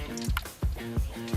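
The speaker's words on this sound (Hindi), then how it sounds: "और इसका ये पानी है इसमें डालते हैं।" Water being poured into a pani puri mixture, with a few short splashing, dripping pours in a rough rhythm, close and fairly clear.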